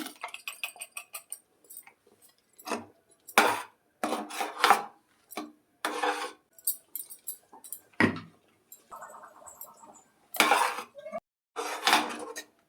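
Mung dal and sago payasam with jaggery and ground coconut is stirred in a pot, a spoon scraping and clanking against the metal in close, irregular strokes with brief pauses, no speech.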